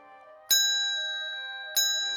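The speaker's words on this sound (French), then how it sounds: "Soudain, une cloche se fit entendre." Two bright bell strikes ring out, each with a sharp onset and a long shimmering decay, the second about a second and a quarter after the first, clear and alone.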